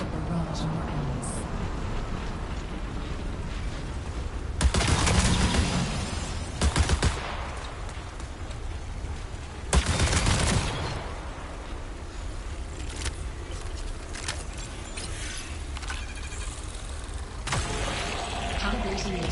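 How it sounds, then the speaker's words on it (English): Bursts of gunfire in the video game Marathon, loud broadband blasts clustered around a few moments over steady game ambience and occasional talk. "Use it during combat to unleash a barrage on your enemies."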